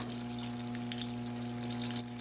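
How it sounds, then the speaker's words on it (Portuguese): A Panasonic 18 kg Titanium washing machine (NA-F180P7T) runs a spray rinse on a king-size comforter, water spraying in a steady hiss over a constant low motor or pump hum, close and continuous. "Mas a água cai nos dois locais"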